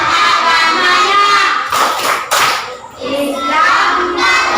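A group of Indonesian schoolchildren does the tepuk toleransi, a patterned rhythmic clapping routine, with loud sharp hand claps in quick sequences and short pauses, voices chanting along close by.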